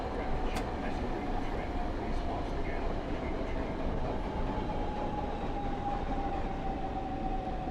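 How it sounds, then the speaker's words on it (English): A train rolls past in a train simulator game, heard as a continuous low rumbling wash of wheel and carriage noise at steady moderate loudness with a faint thin whine running through it. "I don't like the sound of trains going past you"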